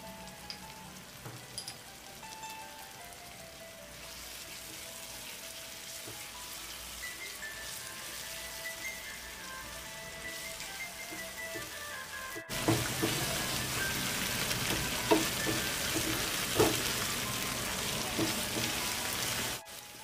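Masala frying in a pan after beaten sour yogurt and cashew paste go in for a paneer curry, a steady close sizzle and crackle with no talk, growing louder and harsher partway through.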